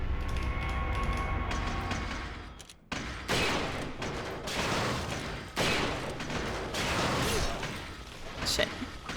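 Gunfire in Resident Evil 4 (2005), repeated loud shots and bursts in quick succession with mechanical clatter, mixed with talking over the action.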